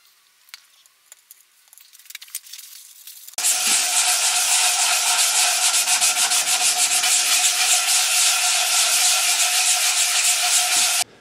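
Sealer being sanded off the body of a Harley Benton DC guitar kit. A few quiet handling noises come first, then about eight seconds of loud, continuous, close-up rasping strokes in a steady rhythm.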